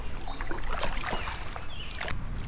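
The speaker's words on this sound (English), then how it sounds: "footage up right now of me pulling my kayak up those rocks" A kayak is dragged up riverbank rocks beside an Ohio river, with scraping, knocking and scuffing over running water and outdoor wind noise, close and continuous, with no voices.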